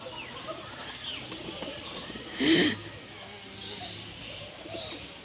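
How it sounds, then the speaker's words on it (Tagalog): Pigeons coo and flutter among other bird sounds at an outdoor mini zoo in Pugo, La Union, Philippines, with one louder burst of wingbeats and calls nearby. "Maraming klaseng mga ibon ang nandito."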